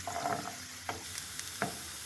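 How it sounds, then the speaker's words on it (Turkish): Soft sizzling of onions sautéing in a pan for mushroom soup, with a few scraping stirs of a utensil, quiet and close, no voices. "Soğan kavurma işlemimiz tamamlandı."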